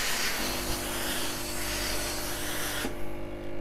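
A Braun steam generator iron set to eco mode glides over fabric, giving a close, continuous rubbing hiss with soft steam spray that cuts off abruptly near the end.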